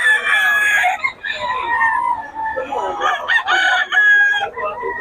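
A Sweater Cross Gilmore gamefowl rooster crows repeatedly and loudly, close by, its shrill calls coming in several bursts with a short pause between, with no voices.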